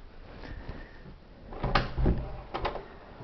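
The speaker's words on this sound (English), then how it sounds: "Can I open the door here?" An apartment door opens with a few close, knocking clunks and a rattle of the latch in a quiet room, with no talking.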